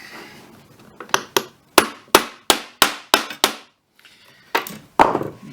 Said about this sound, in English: So it's more hammering.